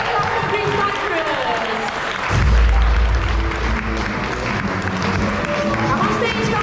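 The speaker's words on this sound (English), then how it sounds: "Big applause for Green Cyprus!" Sustained audience applause at the HackTech 2024 hackathon for a team called Green Cyprus, a crowd clapping steadily with cheers and a low thump partway through, while a presenter's voice carries on over it.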